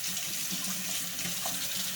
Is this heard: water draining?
yes